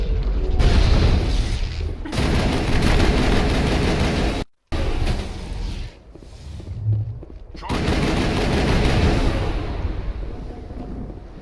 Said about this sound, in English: I'm actually going to switch back to my normal Spectre assault rifle